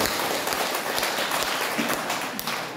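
A church congregation applauds during a Christmas service, dense, steady clapping filling the room at fairly close range with no talk over it.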